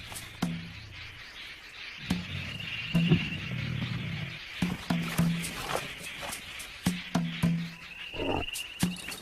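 Lions in the African savanna growl and grunt in short repeated bursts among splashing and scuffling in mud, close and fairly loud, with brief crackling impacts throughout.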